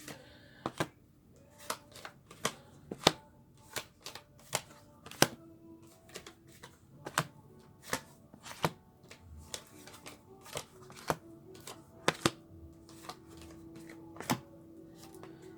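A deck of tarot cards is shuffled, giving a long run of crisp, irregular snapping clicks close by, with no talking.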